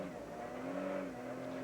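A 2003 Speed GT race car at Road Atlanta, its engine holding a steady, strained drone while the driver struggles to put power down, heard from a distance with no one speaking.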